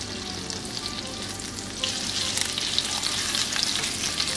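Pork slices frying in a pan over medium heat for Japanese ginger pork, a continuous close sizzle that grows louder and crackles more busily partway through, without talk.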